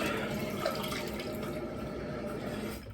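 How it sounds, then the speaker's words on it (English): A steady stream of tap water running into a sink as a Bic metal safety razor is rinsed, a continuous close splashing wash that fades slightly at the end. "I'll rinse it off here real quick"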